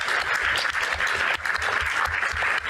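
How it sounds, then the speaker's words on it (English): Sustained applause from a festival audience at Toonfest 2023 celebrating ten years of Toontown Rewritten, a dense, steady wash of many hands clapping that holds loud and even throughout, with a brief dip midway. "Huge round of applause"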